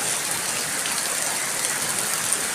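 Heavy rain falls onto soil outdoors, a constant loud rushing hiss with no pauses and no voices.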